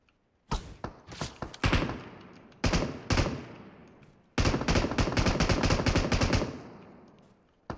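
Gunfire in PUBG Mobile: several short automatic bursts and single shots ring out loud and close, followed by a long sustained volley with a trailing echo.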